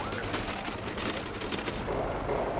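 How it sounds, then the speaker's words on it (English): Gunfire rattles through the city of Jenin near a hospital, a dense, continuous crackle of shots heard from a distance that dies away toward the end. "Even the hospital grounds shake to the sound of gunfire."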